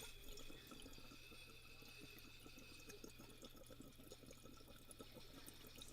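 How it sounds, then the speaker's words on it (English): Water poured into a glass bowl, a steady, quiet trickle and splash heard close up, with no talking. "now I'm just going to pour a little bit more water into this one"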